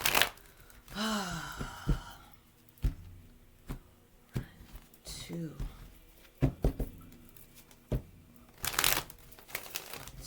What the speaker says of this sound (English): Let's go ahead and shuffle this 3 more times.